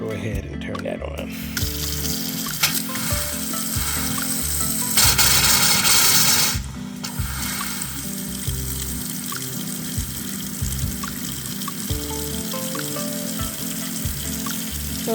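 A hot-water tap, turned fully to hot while a gas water heater's T&P valve is being replaced, runs with a steady rushing hiss that swells loudly for a moment and then settles, with clunks and background noise around it.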